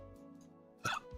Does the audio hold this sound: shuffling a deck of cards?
no